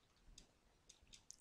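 Keys on a computer keyboard click faintly in a few scattered taps, then one sharper, louder click lands at the end. The sound is quiet and close, with no voices.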